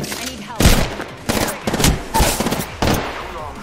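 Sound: gunfire in a video game

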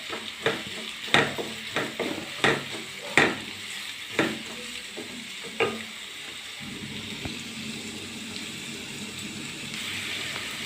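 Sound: stirring kolli vada mixture frying in a pan

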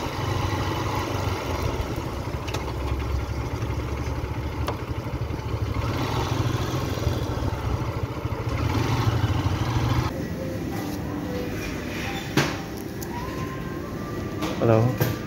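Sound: motorcycle engine running

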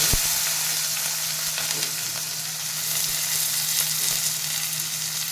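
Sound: urad dal, cumin, mustard seeds, onion and green chilli frying

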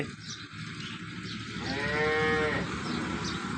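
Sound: cow mooing

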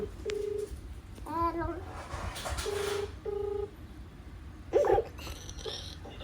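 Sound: phone call ringing after redialing

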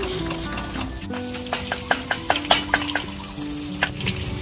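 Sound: chicken wings frying in oil

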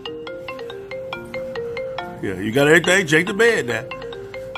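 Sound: mobile phone ringing

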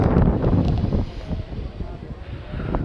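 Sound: wind blowing past moving train

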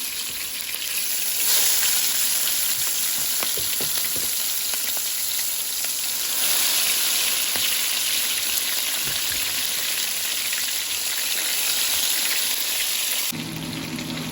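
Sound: shrimp frying in hot oil

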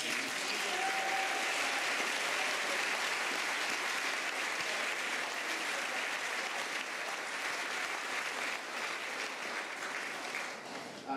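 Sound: audience applause at school spring concert

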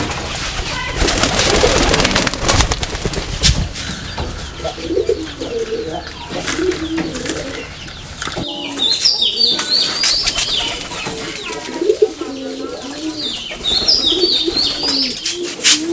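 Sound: pigeons cooing

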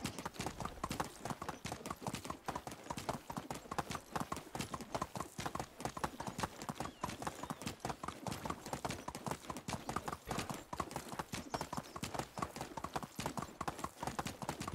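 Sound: horse galloping, hooves clip-clopping, from video game Medieval Dynasty

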